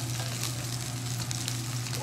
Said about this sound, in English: Bacon's frying up nicely.